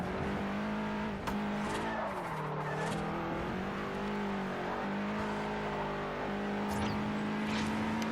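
A race car in the Forza Horizon video game roars continuously at high revs, engine pitch dipping and climbing through gear changes with intermittent tire squeal and skidding, loud and steady with no talk.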